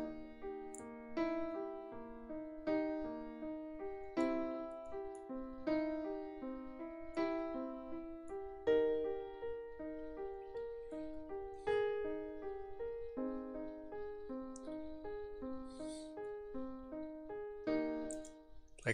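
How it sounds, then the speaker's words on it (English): Pentatonic composition in which a steady arpeggiated part and a slower melody line interweave, played as clear pitched notes with regular attacks, moderately loud and alone without talk. "this melody and cadence elaboration, which sounds like this."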